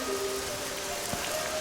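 Steady rain falls on a surface, a continuous even hiss of drops with a few faint sustained tones in the background and no talking.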